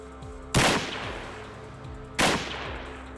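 Two loud, sharp rifle shots from an original Czech service rifle, about a second and a half apart, each with a booming echo that fades out.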